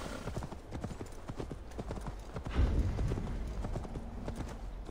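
Horse hooves clip-clop at a gallop in Assassin's Creed Valhalla, a steady rapid rhythm of close, moderately loud footfalls that continues throughout, with a heavier thud midway and no talking.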